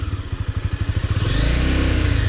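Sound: Honda CBR250 motorcycle engine revving

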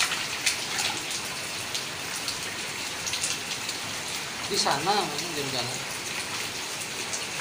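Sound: rain falling

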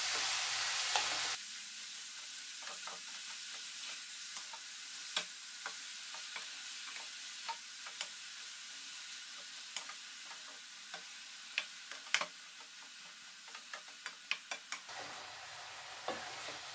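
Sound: stirring grated carrots for gajar ka halwa

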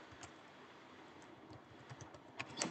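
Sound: typing on a computer keyboard

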